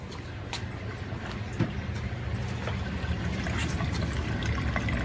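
Aquarium water drains through a hose into a floor drain, making a steady, close trickling rush that holds at an even level throughout, with no voices.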